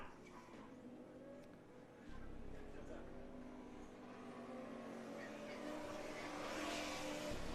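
Formula SAE race cars lapping an endurance event track, engines buzzing at a distance with rising and falling revs as cars pass, under a commentator's voice.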